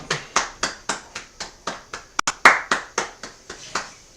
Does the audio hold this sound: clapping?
yes